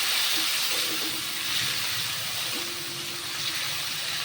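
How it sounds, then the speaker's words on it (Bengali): A continuous sizzling hiss of chopped tomatoes frying in hot oil, steady and close, with a faint low hum underneath and no talking. "আমি তেলের মধ্যে টমেটো কুচিটা দিয়ে দিলাম"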